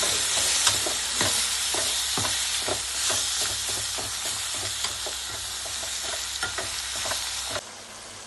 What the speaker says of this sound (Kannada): ಟೊಮೊಟೊ ಹಾಕೊಂಡ್ಬಿಟ್ಟು ಸ್ವಲ್ಪ ತಿರುಗಿಸ್ಕೊಳ್ಳಿ